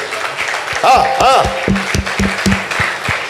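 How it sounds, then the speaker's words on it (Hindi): An audience at an evening prayer convention at a retreat center in Ludhiana claps for Jesus in a loud, brief burst, with a leader's voice calling out over and between the claps. "Give a big hand to Jesus."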